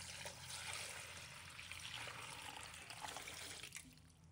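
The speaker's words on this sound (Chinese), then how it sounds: "倒入清水没过生菜" Clean water runs into a large basin over lettuce leaves, a quiet continuous splashing trickle from a tap that keeps flowing throughout.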